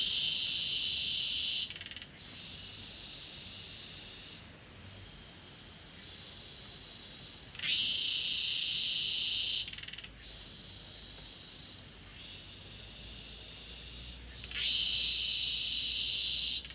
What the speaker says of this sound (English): Can't see anything, but I assume that's a cicada